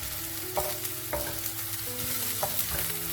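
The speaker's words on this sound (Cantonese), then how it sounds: "而家係熱鑊熱油，中火倒入嗰啲洋蔥同埋紅蔥、薑蓉" Onions, shallots and grated ginger fry in hot oil in a wok over medium heat, a close, steady sizzle with scraping stirring strokes and no talk.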